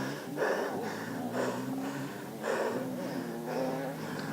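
An out-of-breath enduro rider pants heavily mid-course, with loud, rhythmic gasping breaths about once a second, close to the mic and without any talk.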